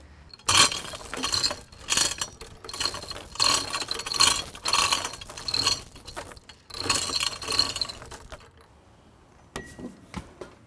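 A heavy spalted silver maple slab rolls away on metal rollers with rapid rattling, ratcheting clatter in repeated bursts, then comes to a stop with a brief clink near the end.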